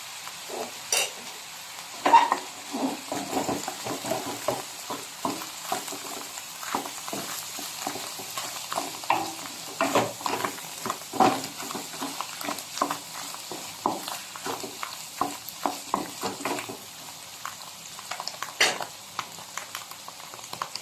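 Mushrooms and butter frying in a pan for beef salpicao, a steady close sizzle broken by frequent scraping and stirring clicks of a utensil against the pan, with no talking.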